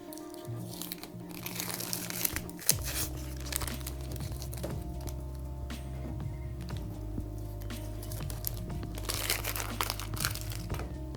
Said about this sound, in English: Then you can easily just peel away the tape.